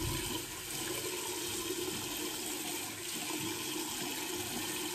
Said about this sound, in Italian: Sciacquiamo